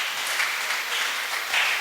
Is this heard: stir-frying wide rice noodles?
no